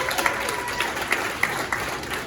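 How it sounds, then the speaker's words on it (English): Comedy club audience at a stand-up show clapping, a sustained patter of many hands with a few sharper claps standing out, moderately loud with a room murmur beneath. "Clap your hands if you've been to New Orleans."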